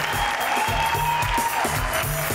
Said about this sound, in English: I want you all to make a big round of applause for Kylie